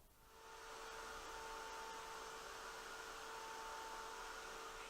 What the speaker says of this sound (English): then I can go ahead and melt the powder with my heat tool